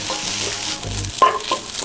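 Grated coconut fries in hot ghee while being stirred: a brief, fairly loud sizzle with a couple of short utensil scrapes and a metallic clink, no voices.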